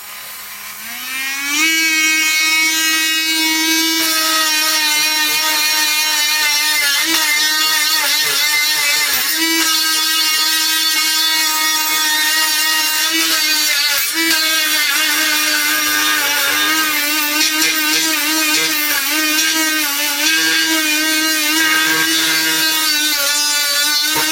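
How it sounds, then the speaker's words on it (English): A worn wire wheel on a power tool spins loud and steady while cleaning Mac Classic parts, a sustained whining drone that shifts slightly in pitch as it bites the metal. "Wire wheels wearing down a bit now as well."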